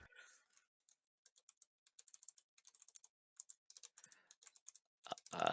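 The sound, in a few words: computer keyboard clacking while typing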